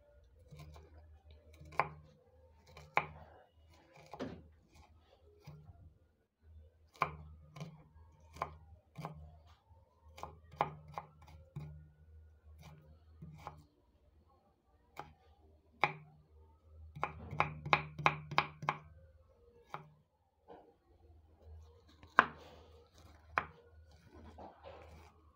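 An onion being finely chopped with a knife in a home kitchen while making a spiced coconut bean soup: sharp, irregular knife taps on a board, with a fast run of quick chops near the end, close and clear and heard alone.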